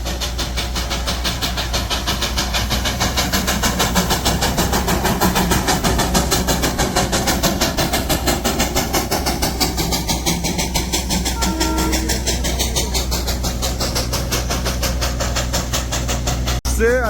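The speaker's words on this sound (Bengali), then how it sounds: "দেখো টয় ট্রেন আসছে" The Darjeeling toy train engine running alone at Batasia Loop, a loud steady mechanical chugging and rumble with rapid rhythmic pulsing that continues throughout, under occasional talk.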